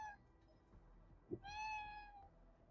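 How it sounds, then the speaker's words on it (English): A pet cat gives a clear, drawn-out meow close by, with a fainter short call at the start and a soft thump between them in a quiet room. "Yeah, you're a pretty kitty."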